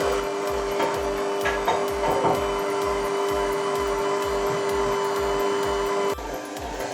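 Stand mixer kneading panettone dough of flour and sugar-water syrup, a steady motor whine with a regular thumping pulse of the hook turning the heavy dough, continuous and close, dropping slightly near the end.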